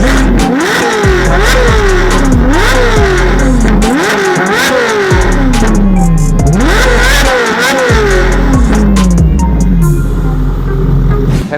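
Straight-piped headers on a car with BBS wheels and air suspension rev hard in a loud, close sequence of about eight repeated throttle blips, each climbing sharply and dropping back before the next.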